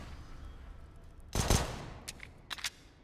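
Pistol shots in a Counter-Strike match on the Nuke map, a loud burst of gunfire near the middle followed by a few fainter, sharper pops, with no talking.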